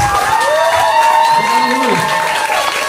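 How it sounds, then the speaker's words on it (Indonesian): Audience applause and cheering at a live Ramadan hospital event, crowd clapping under a sustained melodic tone and voices, loud and continuous for about three seconds. "kita kasih tepuk tangan yang meriah"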